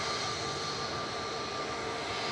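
An EasyJet Airbus A320 Classic jet departs from an airport, its engine a steady, distant, fairly faint roar with a sustained hum, alone without voices.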